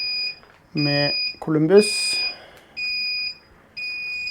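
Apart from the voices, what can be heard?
brewing kettle beeping when boiling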